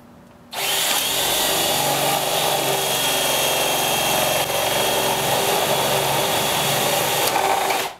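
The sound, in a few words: power drill boring 3/4 inch holes in worm tower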